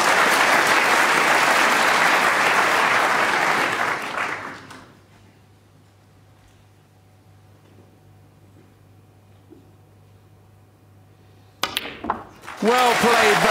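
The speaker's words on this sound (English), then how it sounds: "warmly appreciated by the packed audience. His family applaud as well." A packed snooker audience at the 2013 World Championship final applauds Barry Hawkins' century break with loud, sustained clapping that fades after about four seconds into near silence, before a commentator's voice comes in at the end.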